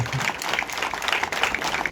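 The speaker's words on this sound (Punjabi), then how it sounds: "ਇੱਕ ਜ਼ੋਰਦਾਰ ਤਾੜੀਆਂ ਪਹਿਲੇ ਲਾਈਏ ਆਪਾਂ ਨੂੰ" Dense, energetic applause from a crowd at a political celebration gathering, continuous clapping at fairly close range filling the whole short stretch.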